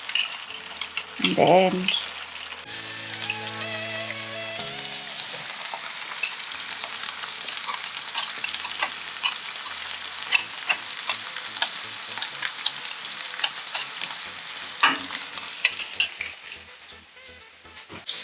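Eggs frying in a pan with cheese slices added for a quick breakfast, a steady close sizzle running throughout with a few utensil scrapes and clinks, brief talk near the start.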